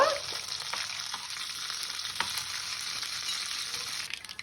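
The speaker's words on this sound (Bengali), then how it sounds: "ব্যাস ফোড়নটা ভাজা হয়ে গেল" Mustard seeds, dried red chilies, curry leaves and a little split black gram tempering in a small amount of hot oil, a steady crackling sizzle that holds close and even throughout, with no voices.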